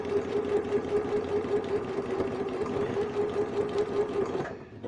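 A sewing machine runs a steady, continuous zigzag stitch on appliqué, humming and whirring at an even pace close up, then stops abruptly near the end.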